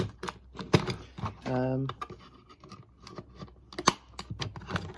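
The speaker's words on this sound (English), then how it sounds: "You hear it now just clicking." Sharp plastic clicks from a Turtle Beach Recon 50X Xbox One headset being pried apart, coming in an irregular, close-up series with a short stretch of voice in the middle.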